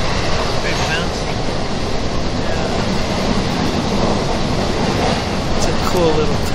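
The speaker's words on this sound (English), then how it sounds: "train going to Rome." Steady rumbling clatter of a bouncy passenger train bound for Rome, loud and continuous throughout with faint rail clicks, no talking.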